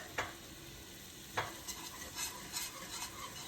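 A metal whisk stirs heavy cream in a hot, inexpensive pan, giving quiet scraping strokes and soft sizzling at an unhurried pace, several distinct swishes against a low simmering hiss, with no voices.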